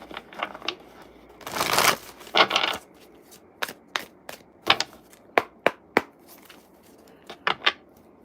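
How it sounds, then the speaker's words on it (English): A deck of tarot cards is shuffled close by: a dense riffle burst early on, then a run of crisp, separate taps and slaps as the cards are squared and cut. "Let me do one more shuffle again."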